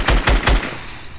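Three rapid, loud gunshot bursts ring out in a PS4 shooter video game, a close rhythmic volley followed by a fading tail, with no talk over it.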